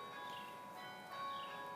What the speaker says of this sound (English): And there's our church bells in the neighborhood.